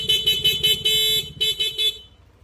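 A stock horn on a Yamaha Aerox V2 scooter honks in a quick series of short, shrill beeps, then one longer blast and a few more taps before stopping.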